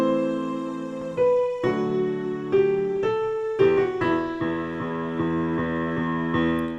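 Piano playing part of a piece, with a low E struck repeatedly in a steady pulse under ringing sustained chord tones, clear and close, with no talking.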